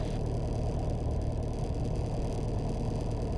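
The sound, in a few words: light aircraft engine revving to 1800 rpm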